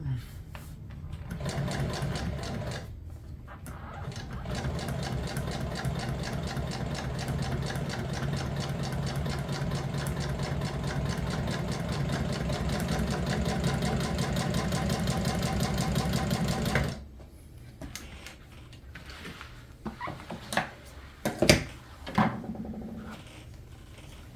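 An upholstery sewing machine stitches a straight line in one long continuous run of fast, even mechanical whirring and knocking, then stops, followed by a few scattered handling clicks.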